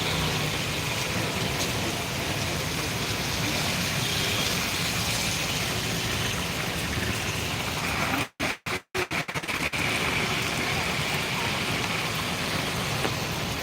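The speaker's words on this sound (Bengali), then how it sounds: "তুমুল বৃষ্টি ইতিমধ্যে শুরু হয়ে গেছে" Heavy rain pours down at Digha beach during a storm surge, a dense, steady roar of water with a few brief dropouts partway through.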